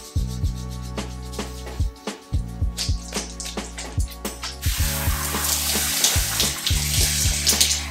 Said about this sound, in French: j'ai rincé abondamment mes cheveux